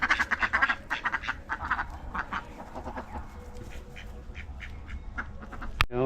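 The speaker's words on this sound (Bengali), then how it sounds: "হাঁস" A duck quacks in a quick, rhythmic run of nasal calls at the start, then fainter calls continue over a noisy outdoor background, ending with a sharp knock.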